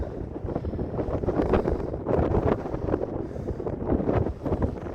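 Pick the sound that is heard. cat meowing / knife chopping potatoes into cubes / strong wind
strong wind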